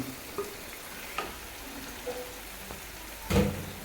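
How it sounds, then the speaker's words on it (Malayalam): Mashed brain dropped into a pan of well-browned frying onions, a soft low sizzle with a few light taps and a louder splattering burst near the end. "അതിലേക്ക് ഇതാ ഉടച്ചു വെച്ച തലച്ചോറ് നമ്മൾ ഇട്ട് കൊടുക്കുന്നുണ്ട്"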